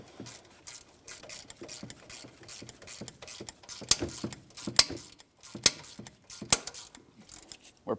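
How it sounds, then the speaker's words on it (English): A bushing is driven into an alternator mount on a 2007-2014 GMC Sierra 2500 HD 6.0L V8 with a rapid ratcheting click, steady then punctuated by a few sharper metallic clacks, close and moderately loud. "Now I can see I'm driving my bushing in."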